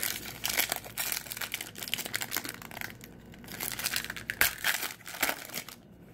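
A 2013 Panini Momentum trading card pack is torn open, its foil wrapper crinkling and crackling in dense bursts for several seconds, close up, with no talking.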